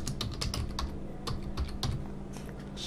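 Fast typing on a computer keyboard, with irregular bursts of crisp key clicks close up and a few brief pauses between runs of keystrokes.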